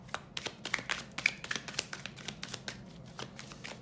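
Tarot cards shuffled and slapped down by hand in a quiet room, a quick run of soft, crisp taps and riffles with no voices.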